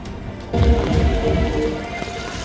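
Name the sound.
heavy rain in Uttarakhand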